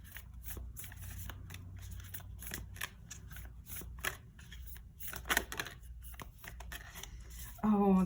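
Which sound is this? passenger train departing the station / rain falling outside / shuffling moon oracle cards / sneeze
shuffling moon oracle cards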